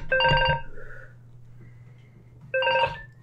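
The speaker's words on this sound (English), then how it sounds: "Oh, phone call." A telephone rings for an incoming call in a Skyrim livestream setting, two bursts of bright trilling ring separated by a quieter gap with low hum underneath, fairly loud and close.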